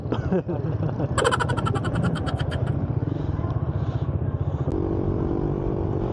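A motorcycle engine drones steadily while riding on the road, with a brief rattling flutter early on and a continuous close hum throughout; a voice talks briefly over it.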